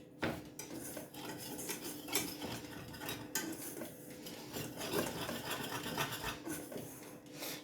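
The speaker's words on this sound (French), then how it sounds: "Et je remue hors feu d'abord." A utensil stirs flour in a pan off the heat, giving continuous close scraping and rubbing against the metal, fairly quiet and steady with no talking.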